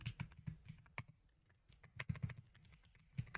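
Computer keyboard clacking as C# code is typed, a run of close, crisp keystrokes in an irregular rhythm with brief pauses, fairly quiet and without voices.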